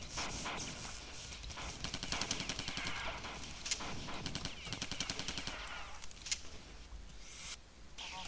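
Assault rifle fire in the arcade game Total Carnage, a fast stream of faint clattering shots mixed with busy game sound effects, quiet and continuous throughout.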